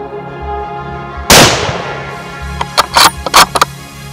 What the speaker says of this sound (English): follow up with a second shot